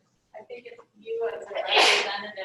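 A single sharp sneeze bursts out loudly in a school board meeting room, preceded by brief quiet talk from a person nearby.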